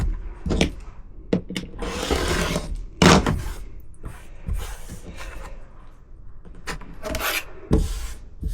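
Fabric is trimmed along the edge of a quilted Christmas table runner made from disappearing nine-patch blocks, giving close, rough rasping cuts in several short bursts with brief pauses between them.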